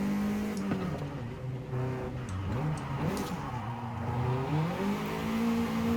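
A Nissan S14 built in Initial D style in Forza Horizon 5, its engine note rising and falling as it revs through the exhaust, steady and fairly loud, with a few light ticks over it.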